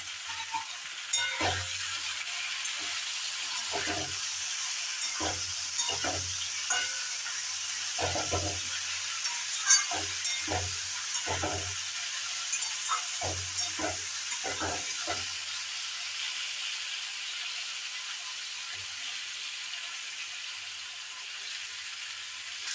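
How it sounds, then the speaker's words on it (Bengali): Potato, taro and eggplant fry in a pan for a Bengali hilsa curry, a steady sizzle carrying through while a spatula stirs and scrapes in repeated bursts. "ভাজা ভাজা হয়ে গেছে, এবার বেগুন দিয়ে দিলাম।"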